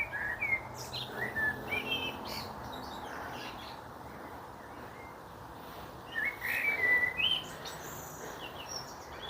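Birds chirp and whistle in a quiet Deansgrange cemetery, several calls scattered across the scene at moderate distance over soft outdoor ambience, with a brighter cluster of song near the end.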